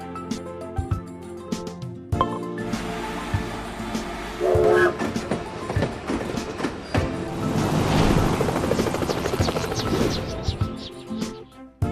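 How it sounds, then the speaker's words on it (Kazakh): A train passes loudly, a rumbling, clattering roar that builds and holds with metallic rattles and bangs, then cuts off abruptly. "Поезд."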